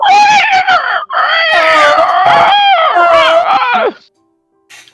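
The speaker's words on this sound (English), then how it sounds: "He unleashed a blood-curdling scream." A video game character lets out a long, wailing, blood-curdling scream, loud and close, rising and breaking over about four seconds before cutting off into silence.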